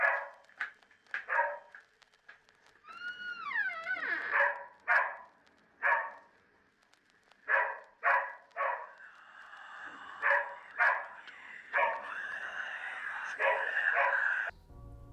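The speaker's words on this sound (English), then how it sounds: "A dog then starts barking before he leaves the room" A dog barks repeatedly in short, sharp bursts on a found-footage horror tape, fairly near and clear, with brief pauses between barks and a steady hiss near the end.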